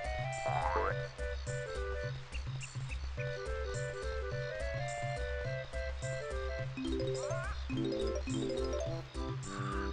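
Frog croaks woven into the Banjo-Kazooie video game soundtrack at Rusty Bucket Bay, rhythmic croaking notes bouncing in time over a steady, loud musical backing throughout.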